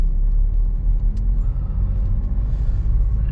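A car's engine rumbling at low speed as it pulls over to park in front of a school, a loud, steady drone with a faint hiss partway through and no talking.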